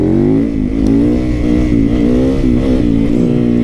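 A Supermoto motorcycle engine revs hard and close, its steady harmonic drone rising and dipping with throttle changes across the whole stretch, loud and continuous with no voices over it.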